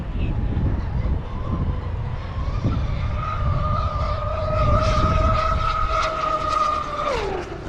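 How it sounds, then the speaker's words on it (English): Camo green TFL Zonda RC boat with steel props on a full throttle pass, its high motor whine holding steady and rising slightly, then dropping sharply at the end, over constant water and wind noise. "Full throttle pass right there with the steel props"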